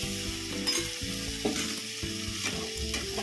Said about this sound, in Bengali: আমার মশলাটা কত সুন্দর ভাজা হয়ে গেছে